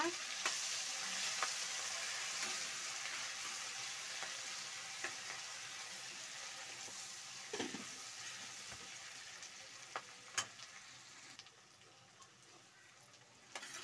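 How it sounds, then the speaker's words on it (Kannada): Green chillies, ginger, curry leaves and mint frying in oil, giving a faint, steady sizzle with occasional soft clicks of a stirring spoon, quiet and continuous throughout. "ಕರಿಬೇವು, ಹಸಿಮೆಣಸಿನ್ಕಾಯಿ ಎಲ್ಲ ಫ್ರೈ ಆಗಿದೆ"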